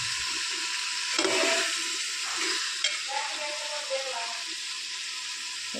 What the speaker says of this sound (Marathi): थोडा वेळ परतून घ्यायचं कलर येईपर्यंत त्याला